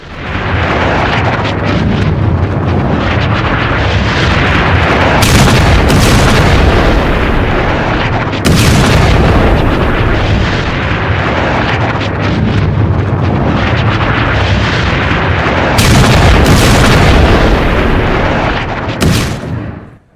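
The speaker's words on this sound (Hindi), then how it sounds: "और खमनेई का बंकर जो ईरान में था, उस बंकर को उड़ा दिया गया है" Loud, sustained blasts and rumbling booms from the bombing of a fortified bunker in Iran during the Iran–Israel war, with repeated sharp bursts over a continuous roar in news footage.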